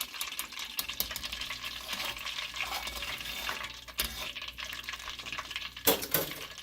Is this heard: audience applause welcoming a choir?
no